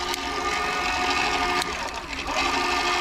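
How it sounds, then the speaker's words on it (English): DŌST DROP electric bike motor whirring steadily under throttle, a continuous mid-pitched mechanical hum with a brief dip and clicks as gears shift, close up. "Get the throttle going and then shift gears."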